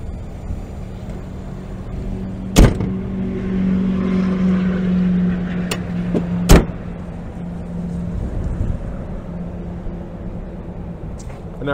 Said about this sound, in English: Finally out of that wind and road noise